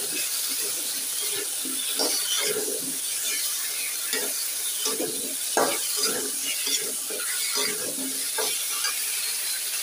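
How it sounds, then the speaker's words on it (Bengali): Spices with turmeric, cumin and garlic paste being stirred and fried in a pan: a close, steady sizzle broken by repeated scraping, clattering strokes of a spoon throughout. "সব কিছু একসঙ্গে নাড়াচাড়া করে ভাজতে থাকি"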